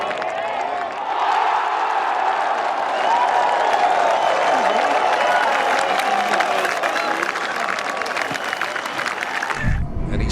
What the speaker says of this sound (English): he sent the crowd into a frenzy